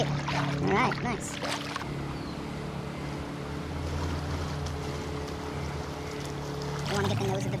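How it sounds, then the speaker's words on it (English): An old whitewater kayak is paddled on flat water with repeated sweep strokes, giving soft rhythmic splashes and water swishes close by, with bursts of louder splashing at the start and end. "What I'm going to do is repeatedly forward stroke with those sweep strokes just on the right-hand side"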